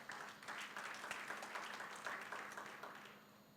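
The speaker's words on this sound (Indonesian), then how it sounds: "Berikan tepuk tangan." A church congregation claps in steady applause for a few seconds, moderately distant and filling the room evenly.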